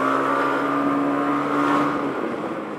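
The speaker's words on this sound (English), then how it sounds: "I'm trying to catch the motorcycle" A red-framed Ducati motorcycle with dual exhaust sweeps past with a steady, loud engine drone that swells and then fades as it moves away.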